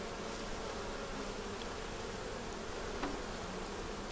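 Honey bees hum in an open winter hive with a screen bottom, packed with brood: a dense, steady buzzing drone that fills the whole stretch evenly, with no one speaking.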